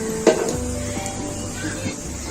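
Tadka for achari moong masoor daal crackles and sizzles steadily in a pan, a low continuous frying hiss with a few sharp pops and metal clinks.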